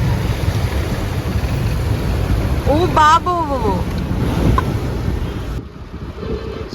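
A car drives through a flooded road on a rainy drive back to Pune, with a loud steady rush and churn of water close outside and a startled voice exclaiming briefly partway through.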